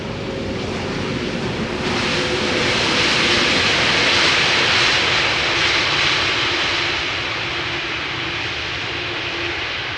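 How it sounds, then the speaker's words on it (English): A Delta Airbus A330 landing at Amsterdam Schiphol, a loud, steady jet engine roar that swells and stays broad and rushing throughout, with a faint whine underneath and no voices. "Delta A330 coming in from Orlando. Doing a little wheelie."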